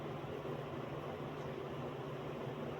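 An electric fan runs close by, its steady hum and broadband airflow hiss continuing evenly and fairly quietly throughout, with no voices.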